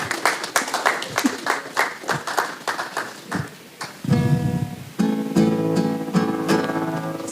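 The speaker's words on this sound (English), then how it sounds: "Give your boy a round of applause for that." Applause from an audience at an independence event, with uneven, rhythmic bursts of clapping in the first half before sustained tonal music takes over.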